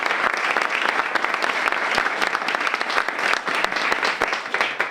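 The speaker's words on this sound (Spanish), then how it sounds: "Un aplauso, por favor." Dense, steady audience applause fills a hall at a children's literature gathering, many hands clapping continuously and loudly for the full stretch with no voices over it.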